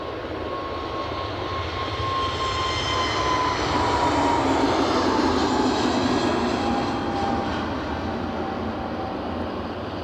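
A British Airways airliner moving at Aberdeen airport, its engines a steady, full roar with a thin whining tone, continuous and moderately near, with no voices over it.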